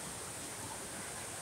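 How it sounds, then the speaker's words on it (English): An indoor waterfall pouring down a casino wall makes a steady, even rush of falling water, constant and unbroken throughout, fairly faint and heard alone. "Waterfall coming off the wall."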